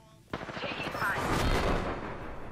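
Gunfire in Apex Legends, a sudden burst of rapid shots breaking out and rattling on continuously at close range, with a short spoken line heard faintly beneath it.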